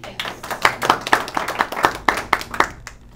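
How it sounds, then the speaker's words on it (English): A small group at a Toastmasters meeting applauding guests, a close burst of hand claps in a quick, uneven rhythm that thins out and stops after about three seconds. "we applaud you for being here"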